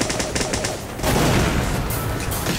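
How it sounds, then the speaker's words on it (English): Gunfire from a first-person shooter, Team Fortress 2, crackles in a dense, continuous burst of game battle noise, loud and close, with sharper shots filling the second half. "I guess I can try to shoot someone"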